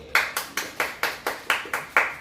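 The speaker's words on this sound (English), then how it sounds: "Clap it up for Josh, everybody" An audience claps for Josh in a run of about ten sharp, evenly spaced claps, close and loud, in a quick steady rhythm with no talk.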